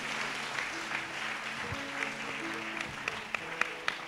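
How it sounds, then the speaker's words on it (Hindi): A congregation at a fasting prayer service claps for the Lord, a moderate, even spread of applause with a few sharper claps near the end and faint voices under it. "ताली बजाएंगे प्रभु के लिए।"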